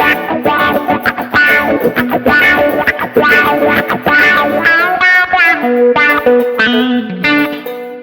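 An electric guitar plays distorted riffs and sustained notes through the wah effect of a Boss ME-25 multi-effects pedal, its tone sweeping and shifting, loud with no talking.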